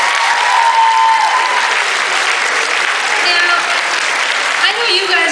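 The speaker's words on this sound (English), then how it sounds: "Let's give them a big round of applause." A large audience breaks into dense, continuous applause that stays loud and close throughout, with brief scattered cheers and voices rising within the clapping.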